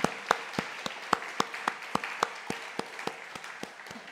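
A church congregation claps together in a steady, even rhythm, with sharp hand claps repeating about three or four times a second for several seconds and no talking.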